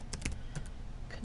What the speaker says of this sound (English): And we are going to type in the target